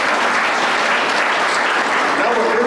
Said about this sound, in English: Let's give Cassie in the chamber another round of applause.